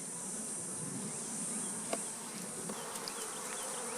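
Honey bees hum around an opened hive box during a beetle-troubled honey harvest, a steady faint drone with a few sharper buzzes passing close, no talk.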